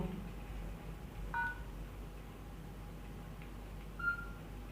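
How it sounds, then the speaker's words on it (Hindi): A mobile phone's buttons are pressed to switch it to silent, giving two short, faint electronic beeps a few seconds apart over a low room hum. "मैं फोन को साइलेंट कर लूं"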